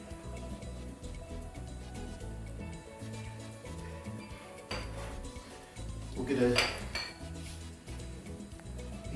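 Cookware clatters on a home kitchen stove as a pot and frying pan are handled for a Caribbean breakfast, with scattered metallic knocks and scrapes, one louder clank near the end, and someone speaking briefly underneath.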